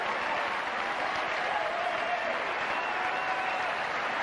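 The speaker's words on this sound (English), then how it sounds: "The crowd suddenly roused again here because they sense that Edberg has a chance." A tennis crowd at the 1996 US Open applauding and cheering during an Edberg versus Henman match, a steady, fairly distant wash of clapping that lasts throughout.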